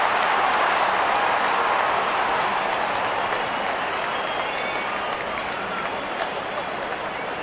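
A stadium crowd at an India vs Australia cricket match applauds in a steady, dense roar of clapping that holds evenly for the whole stretch, with a commentator's voice faintly underneath.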